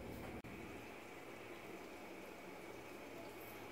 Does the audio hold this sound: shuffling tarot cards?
no